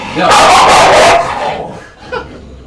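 A dog barks loudly and close in a quick burst of several barks, followed by a quieter yip; a person's voice is mixed in.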